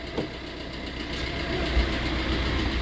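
A car engine idles nearby with a steady low rumble and slight vibration, even and unbroken for a few seconds.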